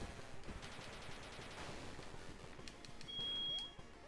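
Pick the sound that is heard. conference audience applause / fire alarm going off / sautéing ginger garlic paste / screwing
fire alarm going off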